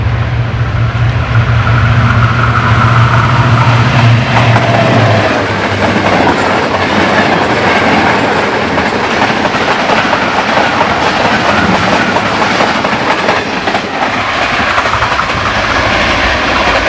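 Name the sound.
Green Line Express train passing, led by HGMU-30 locomotive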